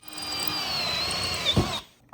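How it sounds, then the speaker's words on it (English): A drill bores holes into an old rail wheel hub with a steady, even whine for nearly two seconds, then cuts off abruptly with a brief clunk. "I just need to drill 3 holes so I can bolt them to the axle."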